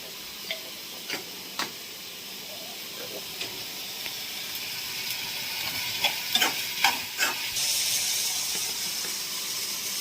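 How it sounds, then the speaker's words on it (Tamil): Onions and tomatoes sautéing with salt and turmeric in a pan, a soft steady sizzle punctuated by scattered clicks of a spoon stirring, growing busier and louder toward the end. "இப்போ கொஞ்சம் வெங்காயம் தக்காளி வதங்கிடுச்சு."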